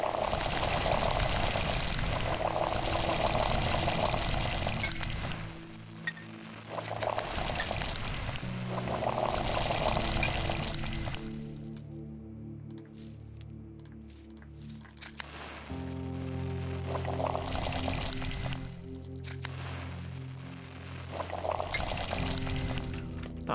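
Water poured in the video game Pathologic 2, a steady splashing stream that stops and restarts several times amid low tonal game music, with no one speaking.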